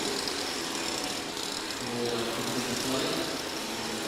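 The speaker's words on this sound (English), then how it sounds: "the drone of the engine getting slightly louder" A steady motorbike engine drone hums continuously, pacing track cyclists in a women's keirin in a velodrome, joined by a broad wash of crowd noise that swells slightly toward the end.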